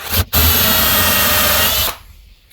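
A power drill drives screws into the wooden frame of an insulated dog house, whining loud and steady for almost two seconds after a brief start, then cutting off to quiet.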